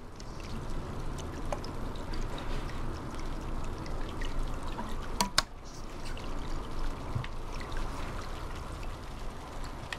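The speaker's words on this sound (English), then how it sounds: "There's a wet noise going on. There is some kind of wet noise. It's wet sounding. Oh, it's the pipe. It sounds wet." Wet, trickling and gurgling noise from a pipe in a cat video game runs continuously, with sharp clicks and a louder splashy burst midway.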